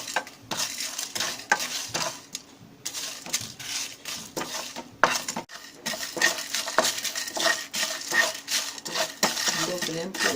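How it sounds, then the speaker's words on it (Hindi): Chickpea masala for chana masala being stir-roasted in a pan over a low flame, with repeated scraping and clinking of a spoon against the pan in an irregular rhythm, close and moderately loud. "इसको हल्का कर धीमे आंच पे इसको भूनेंगे।"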